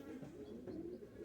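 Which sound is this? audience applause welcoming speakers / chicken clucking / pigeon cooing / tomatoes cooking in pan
pigeon cooing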